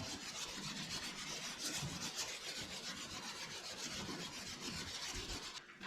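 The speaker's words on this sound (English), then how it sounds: "I just use a little buffing compound to polish it up so you can get an idea what it looks like." Buffing compound rubbed on a custom side marker or back-up light fitted to an M-1 Cobra car, a faint, continuous rapid rubbing with quick back-and-forth strokes, close up and without talk.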